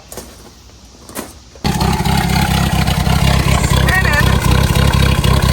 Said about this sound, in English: So I'm raising the idle up a little bit.